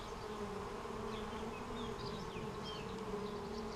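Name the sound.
honeybee swarm buzzing in hive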